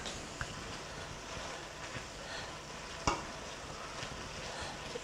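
A 410-gram bag of noodles is stirred and fried in a pan, giving a steady, fairly quiet sizzle with occasional knocks and scrapes from the stirring.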